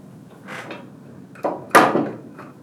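A small Allen wrench snugging screws on a Wicked Edge Gen 3 Pro knife sharpener, a few soft close metallic creaks and clicks with quiet gaps between them.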